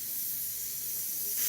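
Orange spray paint hisses from an aerosol can onto a painting of an erupting volcano, a steady close airy spray lasting about a second and a half, with no voices.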